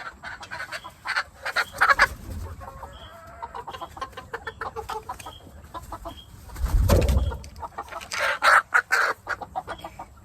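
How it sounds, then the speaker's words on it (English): Backyard hens clucking up close: repeated short clucks and soft chatter from several birds, with a louder low thump partway through and no voices. "I got these beautiful birds."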